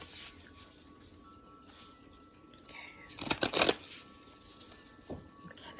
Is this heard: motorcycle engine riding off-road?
no